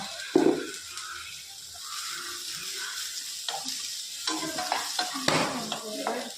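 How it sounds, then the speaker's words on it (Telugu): Curry leaves and tomato fry in a pan while a spoon stirs them, giving scraping, clattering strokes over a low sizzle that swells toward the end. "చూడండి ఇప్పుడు కరివేపాకు టమాటో కూడా వేసాను ఇందులోనే."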